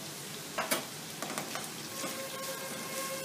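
Spring onions hit a pan over a lowered flame while making Chinese-style millet, giving a steady close sizzle and crackle with a few sharper pops and light stirring, no voices.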